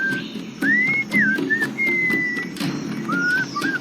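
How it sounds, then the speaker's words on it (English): A melodic whistled tune from the Sam & Max: Beyond Time and Space video game, several bright wavering phrases with short pauses, heard over soft background noise and faint clicks. "What is that enchanting whistling sound?"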